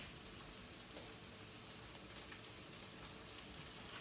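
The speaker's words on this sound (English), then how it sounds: "We're going to cook them so they have a little color, and until there's no liquid left in the pan." Mushrooms with a little salt cook in a pan for risotto, a faint, steady sizzle and crackle of frying that runs unbroken and quiet, with no voices.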